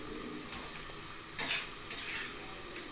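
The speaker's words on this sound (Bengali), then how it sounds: "এবার আমি উল্টিয়ে পাল্টিয়ে কষিয়ে নেব।" Mixed vegetables in a pan, still a little watery, are turned and sautéed with scraping stirs and a few louder spatula strokes over a low, steady sizzle; no voices.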